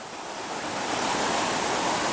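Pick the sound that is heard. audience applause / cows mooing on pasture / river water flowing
river water flowing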